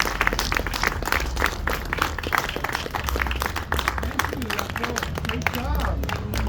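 Applause from a crowd at an outdoor menorah lighting ceremony at the Oxnard Police Department, steady clapping running throughout with voices and chatter mixed in underneath.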